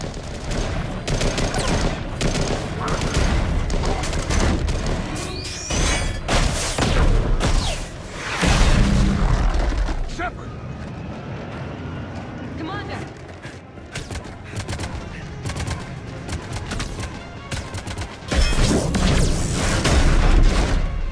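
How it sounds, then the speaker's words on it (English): Assault rifle fire in the video game Mass Effect 3 sounds in dense, rapid bursts with heavy booms, breaking briefly into a quieter stretch before the loud gunfire resumes. "Oh, look, the assault rifle."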